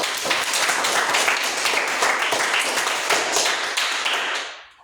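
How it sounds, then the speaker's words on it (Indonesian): Classmates clap for a student in an elementary lesson, a brisk, fairly loud round of many hands that holds steady before tapering off quickly at the end. "Mari tepuk tangan untuk Fadel."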